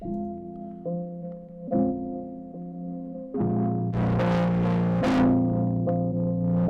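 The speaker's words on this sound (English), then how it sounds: "I think Decapitator is a distortion plugin." Sustained electric guitar chords played through the Soundtoys Decapitator distortion plugin, growing louder and grittier midway with thick, saturated overtones.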